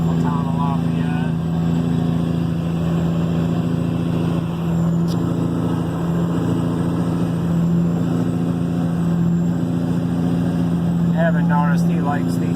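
A Kenworth W900 truck with a Cat 3406E engine and 8-inch straight pipes, hauling manure on a back road: a loud, steady, deep diesel rumble that holds fairly even throughout, with someone talking over it.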